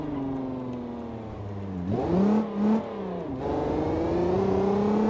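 A car in BeamNG Drive accelerates hard, its engine note climbing steadily, briefly dropping at a gear change, then rising again, loud and close with no voices over it.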